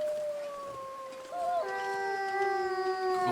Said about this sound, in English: Glad they howled to let me know they were there.